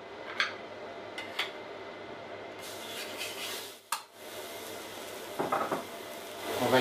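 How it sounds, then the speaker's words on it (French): Lean ground beef patty cooking on a plancha griddle for an Italian-style burger, giving a steady low sizzle with occasional scrapes and clinks of a utensil against metal. "On va cuire le steak haché."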